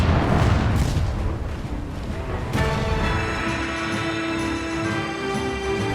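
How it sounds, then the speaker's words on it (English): Warship's 8-inch naval guns in twin turrets firing, a heavy low boom followed by a second sharp blast and a long rumbling roar that gradually fades. "The crew now dials in these guns perfectly before the ship and crew come under fire for real."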